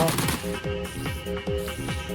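Gunfire in a video game comes as a loud series of rapid, repeated shots, close and echoing, with no talking.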